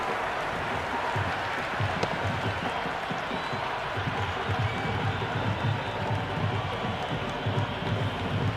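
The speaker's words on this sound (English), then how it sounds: "It's evident and ever so audible that the crowd is at near bursting point at today's play." A cricket stadium crowd at an IPL 2025 eliminator between Mumbai Indians and Gujarat Titans keeps up a broad, continuous roar of distant cheering and clapping, steady and dense throughout.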